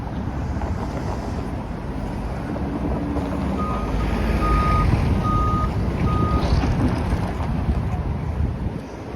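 A Line 1 shuttle bus idles at a stop in cold downtown Toronto, its engine rumbling steadily close by while a repeating reversing-style beep sounds midway, with wind buffeting the microphone throughout.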